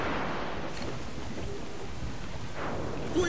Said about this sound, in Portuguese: Caraca, tempestade,